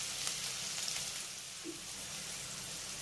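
Small diced potato pieces frying in oil over medium-low flame, giving a steady, soft sizzle that continues evenly throughout with no talking.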